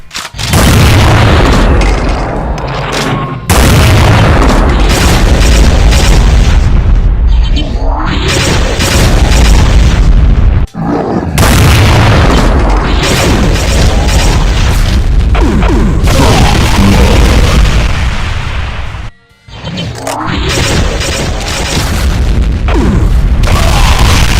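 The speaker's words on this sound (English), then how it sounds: "a spread of ground-based trails of explosions" Loud, dense explosions from Mancubus attacks in a Doom mod video game, trails of blasts rumbling back to back almost continuously, with a few brief gaps between bursts.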